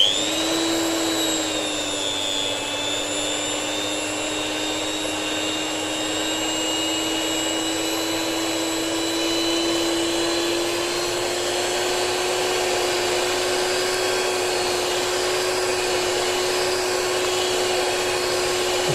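An electric mixer whirs steadily and loudly, blending cocoa powder, Nestlé coffee powder and sugar for a semolina chocolate cake, holding one even motor tone throughout with no talk.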